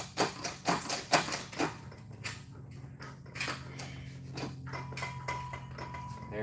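Woodworking clamps creak and clack as they are cranked tight on glued skateboard veneer, a quick run of close knocks followed by softer intermittent creaks and a faint hum.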